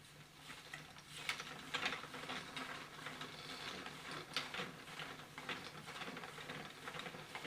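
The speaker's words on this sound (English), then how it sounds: "Now, I'm going to reach over, I'm going to start the wheel," A double flyer spinning wheel runs while flax is spun, giving a faint, irregular mechanical clicking and rattling of gears and pawl, quiet and close, with no speech.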